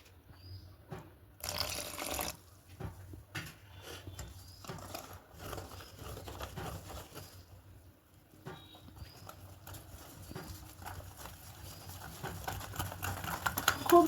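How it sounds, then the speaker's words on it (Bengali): Water is added to a semolina batter for steamed milk pitha and mixed in a bowl, giving a busy run of rhythmic clattering and sloshing stirring sounds, close and fairly quiet, with no speech. "আর একটু অল্প দেবো জল।"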